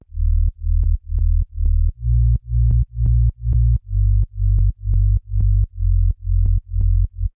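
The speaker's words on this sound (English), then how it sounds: "So without these effects, the sub bass would sound like this." Deep, clean synthesized sine-wave sub-bass notes pulse in a steady rhythmic pattern, each a short sustained boom with a soft click at the start, shifting slightly in pitch.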